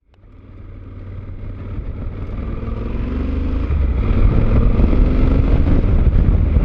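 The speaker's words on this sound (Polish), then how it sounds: "W tej chwili sobie przełączyłem na mapę Tour z mapy Sport, żeby sprawdzić jak zachowanie tego motocykla" Triumph Tiger 800 XR motorcycle on the move in Tour riding mode, a steady engine drone mixed with wind rush that builds gradually in loudness, with no talking.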